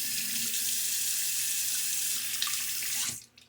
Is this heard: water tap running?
yes